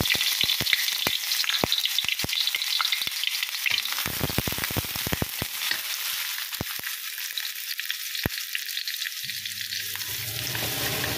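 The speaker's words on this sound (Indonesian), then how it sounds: "kita tumis bawang" Onions sauté in hot oil, a dense continuous crackling sizzle close by with scattered sharp pops, running alone without talk.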